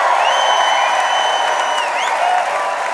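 A studio audience at a comedy debate show breaks into dense, loud applause and cheering for the winning debater, sustained evenly throughout with a few whoops rising above the clapping.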